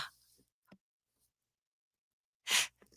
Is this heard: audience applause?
no